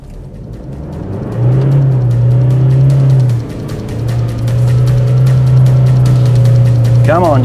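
A car engine drones and revs hard while driving on sand dunes with tyres at 16 psi, a loud sustained roar that dips briefly and then surges again, with voices heard under it.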